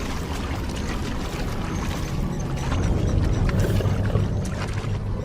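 Floodwater rushes and churns steadily in the wild, a dense broadband wash of flowing water that swells louder partway through and holds at a close, continuous level.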